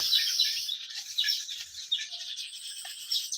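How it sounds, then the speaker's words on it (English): Birds chirping in a tree outdoors in nature, a lively cluster of high, thin tweets and quick trills repeating throughout, fairly close but soft, with no talk. "These ones will always come up, the birds."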